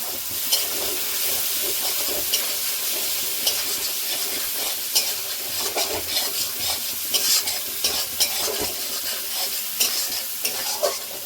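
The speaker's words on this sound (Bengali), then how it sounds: "পোস্তটা ভাজা হতে দিলাম" Poppy seed paste frying in oil with potatoes for aloo posto, a close, busy sizzle with frequent crackles and bursts of spattering, no voices.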